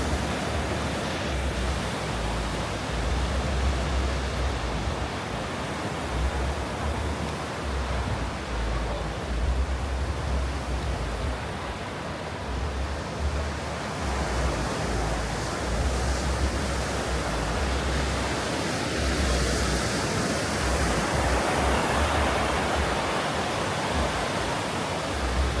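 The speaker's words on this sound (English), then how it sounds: "Listen to them sea waves. Very therapeutic" Sea waves washing at the end of Blackpool pier as a loud, steady roar of surf with low wind rumble throughout, no distinct voices.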